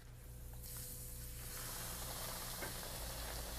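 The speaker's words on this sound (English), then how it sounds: "Wonderful sizzling sound." Breaded catfish frying in very hot grease, a steady bright sizzle and hiss that jumps louder after the first second and then holds continuously, close and alone.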